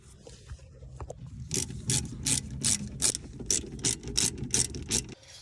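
Ratchet wrench loosening the brake caliper bolts on a 2005 Subaru WRX, a rapid series of about ten sharp clicking bursts in uneven rhythm, close and fairly loud, with no talk.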